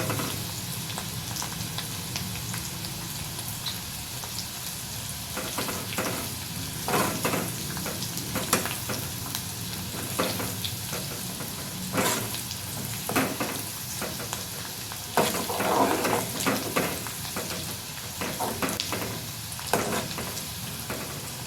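Garlic frying in a pan for a Kathiyawadi brinjal oro, a steady close crackling sizzle with intermittent stirring scrapes, no talking.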